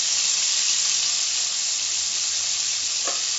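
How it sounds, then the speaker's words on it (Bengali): Crabs frying in a pan for a spicy tomato crab dish give off a loud, steady sizzle that holds throughout, with a brief stirring scrape near the end and no talking. "ভেজে নেব"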